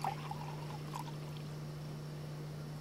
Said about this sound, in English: Pour water in.